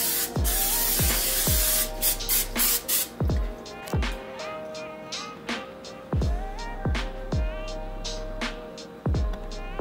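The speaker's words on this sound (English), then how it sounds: "About to get my cooking spray." A short hiss of aerosol cooking spray onto a preheated pan opens the sequence, followed by a string of sharp clicks and knocks at irregular intervals.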